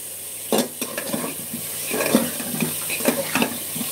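A utensil scrapes and clinks as it stirs egg and potato curry sizzling in a pan, the taps coming close and irregular over a steady frying hiss.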